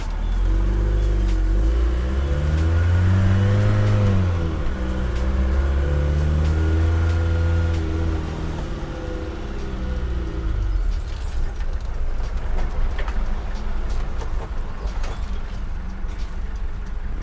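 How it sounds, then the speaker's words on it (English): Mercedes 240GD four-cylinder diesel crawling uphill over dirt in 4-low, a loud close engine drone whose pitch rises and falls, then settles into rougher mechanical clatter and creaks. "so obviously it's a 4-cylinder diesel. It's not the most powerful thing in the world"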